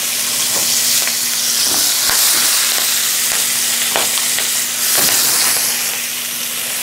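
Vegetables hit hot butter in a Stargazer 13.5-inch brazier and sizzle loudly, a dense continuous hiss with scattered crackles and scraping stirs. A low steady hum sits underneath, and the sizzle swells briefly near the end.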